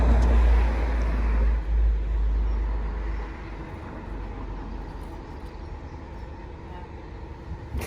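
A car approaching on a road, a loud low engine and tyre rumble close at first, then easing into a steady, fainter roadway hum.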